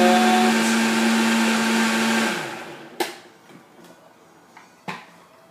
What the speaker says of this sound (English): Keeping small animals or children away from the Vitamix when operating it.